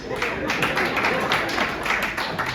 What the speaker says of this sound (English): Clap if you don't pay your bills on time.